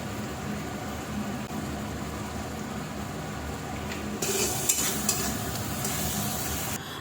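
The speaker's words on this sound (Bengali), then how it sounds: "মশলাটা ভালো করে কষানো হয়ে গেছে" A paste of chilli, garlic and onion with turmeric, cumin and coriander powder fries in a pan, a low continuous sizzle with stirring, growing brighter and harsher midway as the mixture is worked.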